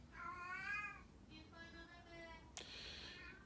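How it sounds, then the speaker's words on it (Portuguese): A cat meows several times in drawn-out, wavering cries, the calls close and clear, with a short sharp knock near the end. "Mas o gato tá miando"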